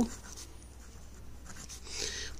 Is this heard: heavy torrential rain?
no